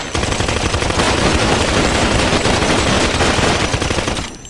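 Dense, loud burst of rapid gunfire used as a sound-effect drop, a sustained machine-gun roll lasting several seconds before cutting off, with no talk over it.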